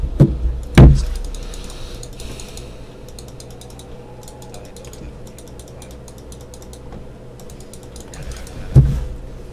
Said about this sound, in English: No, I was just typing on WhatsApp.